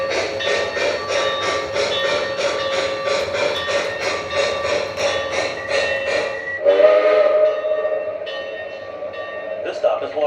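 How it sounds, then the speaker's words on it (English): An O scale model train pulls into a station on a layout, its rapid, even chuffing beat running for several seconds before giving way to sharp whistle blasts near the end. "Now arriving from Baltimore on track 1, train number 21, the Washingtonian."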